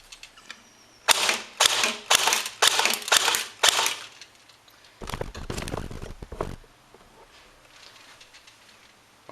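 An Ares Tar 21 airsoft gun fires outdoors: five quick, sharp snapping shots in a row, a pause, then a longer fully automatic burst, heard fairly close with quiet background between.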